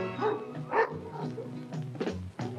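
A small house dog at a beauty contest gives a few yips and barks among crowd murmur and voices, moderately loud and partly masked.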